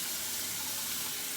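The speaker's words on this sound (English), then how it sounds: "So I'm also going to use some warm water to rinse." Warm water runs steadily from a tap over hands being rinsed, a continuous close hiss and splash with no pauses.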